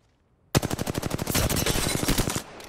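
A burst of rapid automatic gunfire rings out in the Apex Legends battle royale game. After a silent start it cracks loud and close, with dozens of quick evenly spaced shots and no pauses until it fades.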